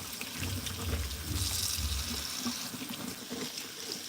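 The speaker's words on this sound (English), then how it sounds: "I'm gonna go ahead and rinse it." Shrimp rinsed under a running kitchen tap after soaking in baking soda, with a steady close rush of water splashing into a sink and shifting slightly as the shrimp are moved.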